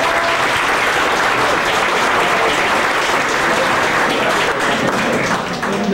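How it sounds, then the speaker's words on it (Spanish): A crowd at a Mexican Electricians' Union gathering applauds the union's lawyers with thick, sustained clapping from many hands, steady and near, easing slightly at the very end. "quien pide un aplauso"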